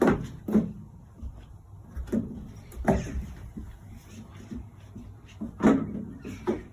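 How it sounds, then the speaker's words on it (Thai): A door is closed in Sweden, giving a few separate soft thumps and knocks spread across several seconds, fairly close with quiet room noise in between. "ปิดประตู"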